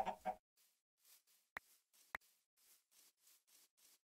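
Minecraft chickens clucking in a rapid series of short, soft cackles, with a couple of sharper clucks, heard alone and close.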